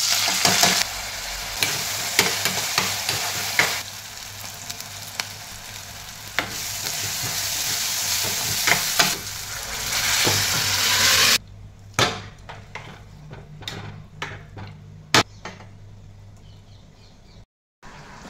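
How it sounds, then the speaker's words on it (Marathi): Vegetables drop into hot oil tempering in a home kitchen pan and sizzle loudly, with scraping stirs. The frying then dies down to a softer crackle with scattered clinks of the spoon. "भाजी फोडणीला टाक्या आता."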